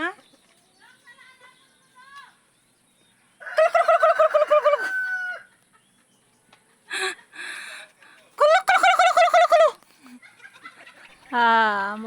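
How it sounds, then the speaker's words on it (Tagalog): Chickens being fed bananas cluck and crow in loud, harmonic bursts separated by quiet gaps, while a person nearby talks and calls to the birds. "Mukha na akong loko-loko sa pagtawag ng manok na to."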